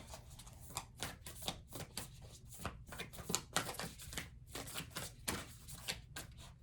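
Oracle cards from a Whispers of Love deck are shuffled by hand, a quiet, rapid run of papery riffling bursts and taps repeating steadily, close and soft, with no voices.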